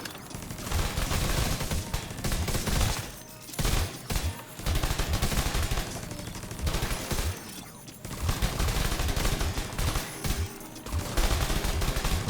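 Gunfire in The Division 2 rattles out dense and loud, sustained automatic bursts with brief pauses between them, over a constant wash of game effects.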